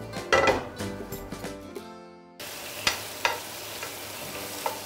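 Two slices of pain perdu with maroilles fry in butter in a pan, giving a steady close sizzle broken by stirring scrapes and light clinks of utensils against the pan.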